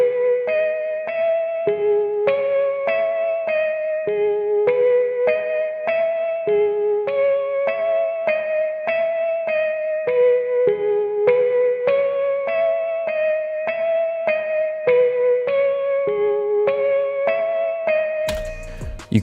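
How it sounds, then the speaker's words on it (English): Lead electric piano from the Addictive Keys Mark 1 Lounge preset plays a steady, repeating melodic phrase with chorus and echo coloring, loud and continuous, with no talking. "First off, we have the lead piano preset that you hear throughout the entire song."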